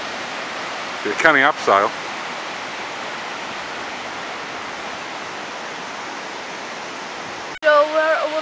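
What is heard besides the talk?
waterfall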